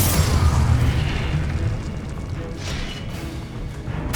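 A deep, rumbling blast from the fire-casting Confringo spell in the Hogwarts Legacy video game, heavy low boom at the start that decays into a rolling roar and a sustained, slowly fading explosion tail.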